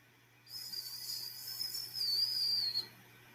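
Children imitate the wind blowing through cracks in a house, making a thin, high whistle that holds for about two seconds, wavers slightly and then cuts off.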